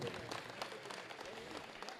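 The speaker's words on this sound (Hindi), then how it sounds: "तो आइए एक बार जोरदार ताली बजा दीजिए, जोरदार ताली।" Dense, steady clapping from an audience at a Hindu devotional celebration for Shri Shyam's birth festival, continuous and fairly distant throughout the short stretch, with faint crowd murmur underneath.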